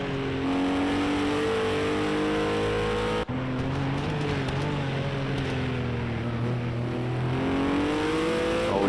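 Ginetta race car engines drone loudly and steadily in an endurance race, a strong tonal whine that shifts pitch as the cars rev and change gear.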